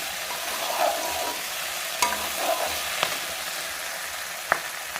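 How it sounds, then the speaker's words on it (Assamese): Ivy gourd and potatoes frying in a pan give a constant close sizzle, punctuated by a few sharp clicks and scrapes of a utensil against the pan, with no one talking. "এয়া মই কুন্দলি আৰু আলু ভাজিলোঁ।"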